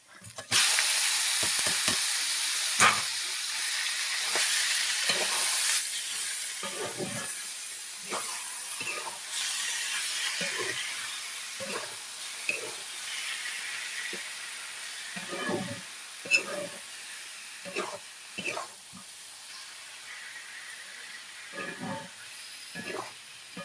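Red amaranth greens fry in a pan with a steady, close hiss that runs throughout, broken by repeated clicks and scrapes of stirring. No one speaks.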